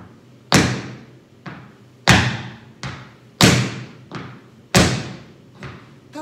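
Tap dance stomps on the floor, struck strongly with the whole sole: about eight sharp, booming hits in an uneven pattern alternating louder and softer, close and alone with no talking.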